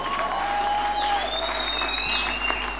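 A church congregation claps steadily for the full stretch, a dense, continuous roar of hands with faint crowd murmur and sustained tones beneath.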